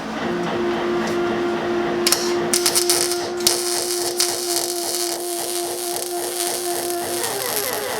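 A welder works on a Porsche 914 shifter part, starting with a steady electrical hum and then a close, crackling, sputtering buzz that runs in uneven bursts. No one speaks.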